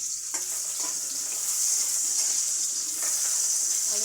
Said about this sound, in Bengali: আগে আলুটা ভেজে নিই